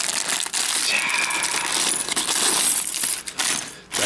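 Dense, continuous clattering of small knockoff Lego bricks tumbling and rattling together, close and loud, with some crinkly rustling mixed in.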